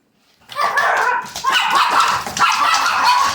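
A dog barks and yips repeatedly, close and loud, with a few whimpery notes after a brief silent start.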